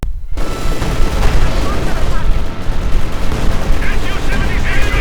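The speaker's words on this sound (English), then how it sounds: "Looks like the SU-76 is finally going to be toast as it's caught bombarded." Artillery bombardment in the Company of Heroes strategy game, with an SU-76 tank destroyer caught in the barrage: a dense, continuous rumble of explosions and gunfire booms, loud and sustained throughout.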